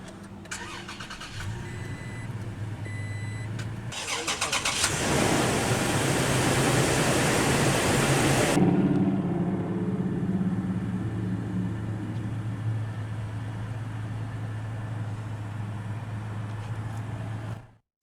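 A 2019 Toyota Tacoma TRD Off-Road Double Cab with push-button ignition cranks and fires up, surging briefly before settling into a steady, close idle that hums on to the end.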